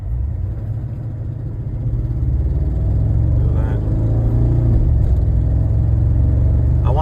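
Cadillac Escalade engine cruising on a freeway, a steady close low drone and road rumble that grows slightly louder partway through, with no break.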